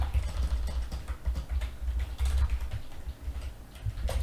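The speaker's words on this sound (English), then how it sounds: "I was bad at typing" Rapid typing on a computer keyboard, a dense run of close clicky keystrokes with brief pauses, alone without talking.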